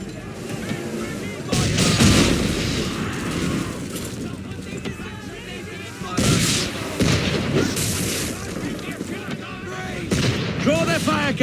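British gunboats firing cannons in Assassin's Creed 3, repeated heavy booms of artillery across a naval battle, loud and close, with battle noise and voices speaking between the blasts.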